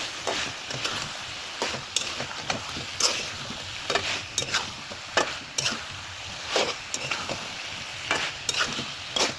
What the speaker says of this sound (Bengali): আমি এবার কেটে রাখা পেঁয়াজটা অ্যাড করে দিলাম